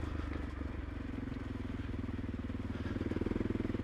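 Honda CRF300 Rally motorcycle engine lugging low in third gear on a trail, a steady, loud, low throb with rapid regular firing pulses running throughout.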